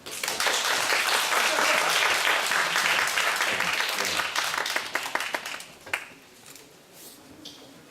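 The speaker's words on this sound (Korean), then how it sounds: "큰 박수로 맞이해 주시기 바랍니다." Audience applause welcoming a presenter at a public-sector HRD contest final, a full round of clapping from a hall crowd that is strong at first, then thins and dies out in the last seconds.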